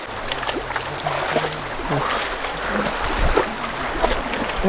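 Clear water flows along a stream in a constant broad rush, loud and close, with a high whistling tone entering midway.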